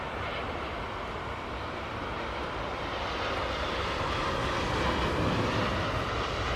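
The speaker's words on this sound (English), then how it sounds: "China Southern 787 Dreamliner. Here she is with the Boeing equipped livery." A China Southern Boeing 787 Dreamliner at Heathrow gives off a steady broadband jet roar that swells slightly toward the end, heard alone without voices.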